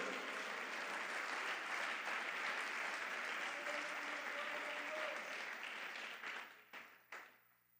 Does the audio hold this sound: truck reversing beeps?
no